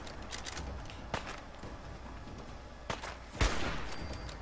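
Gunfire in the Fallout 4 video game: several sharp shots spaced across the clip, one louder burst near the end, over a steady rumbling game background with no talk.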